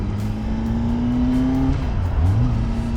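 A Kawasaki ZX10R motorcycle engine revving hard during a clutch launch, a loud, steady high-pitched roar that climbs, dips briefly, then climbs again.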